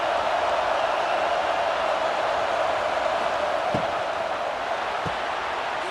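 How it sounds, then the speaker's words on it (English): Stadium crowd in College Football 26 for Texas Longhorns at Georgia Bulldogs, a continuous broad roar of distant fans holding steady throughout, with two faint thumps near the end. "Listen to the crowd energy here in the early going."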